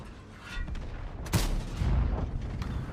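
Video game gunfire sounding as a cluster of muffled, booming shots and explosions at moderate distance, with rumbling low-end blasts around the middle.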